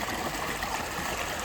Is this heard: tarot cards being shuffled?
no